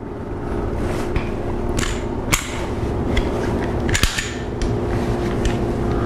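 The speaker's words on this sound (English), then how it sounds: "in this case what he did is he jacked it back, check the condition of the weapon" A firearm action racked back to check the weapon on a shooting range, sharp metallic clacks and clicks standing out at intervals over a steady background rumble, close by, with no speech.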